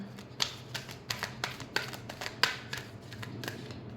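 Tarot cards are shuffled by hand in quick, crisp riffling bursts, close and clear, with repeated papery slaps at an uneven rhythm over a low background hum.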